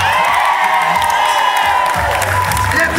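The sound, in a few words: wedding guests applauding and cheering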